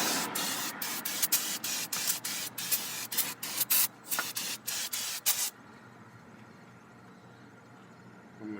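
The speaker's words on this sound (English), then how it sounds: "Just grab some brake cleaner. I'm gonna spray because even the carburetor looks dirty." Aerosol brake cleaner sprayed onto a car carburetor on an Oldsmobile Cutlass, a rapid run of short hissing bursts close by, then the spraying stops and only faint background remains.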